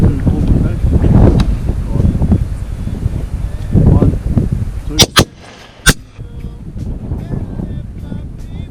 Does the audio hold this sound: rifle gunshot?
yes